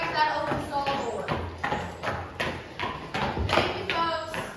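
Clydesdale hooves clop steadily on a hard floor at Warm Springs Ranch in Missouri as the horse walks toward an open stall door, giving near, evenly spaced thuds with a voice talking over them.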